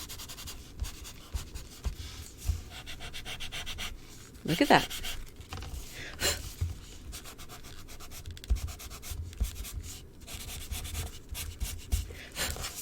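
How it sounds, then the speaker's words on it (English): Paper towel rubbed over pencil marks on paper to blend them, close irregular scrubbing strokes repeating throughout, with a brief spoken remark partway through. "with a paper towel, I was able to blend out my pencil."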